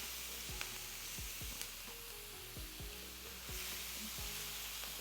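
Garlic sizzling in a pan with onion for creamy pesto chicken and broccoli pasta, a soft continuous frying hiss, fairly faint, with occasional light knocks from stirring.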